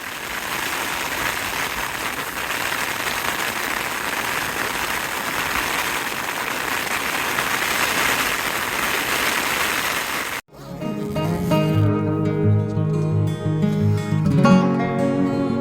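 Steady, dense drumming of heavy overnight rain on a thin single-skin tent fills the first ten seconds, then cuts abruptly to a different tonal, musical sound.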